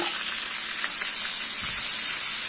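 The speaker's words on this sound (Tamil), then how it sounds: "இது கொஞ்சம் வதங்கட்டும்." Small chopped onions sauté in hot oil for a potato curry, giving a steady close sizzle and hiss with a faint stir or scrape partway through, and no talk.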